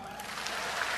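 Applause from a congregation at a Filipino religious healing service, a dense, steady wash of clapping that fills the whole moment at moderate loudness with no clear voice over it.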